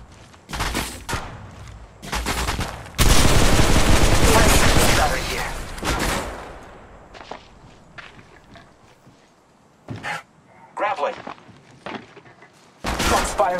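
Gunfire from the Apex Legends Mobile battle royale game: bursts of rapid shots, one sustained loud volley, and sharp single reports separated by pauses, with footsteps and quieter game sounds between.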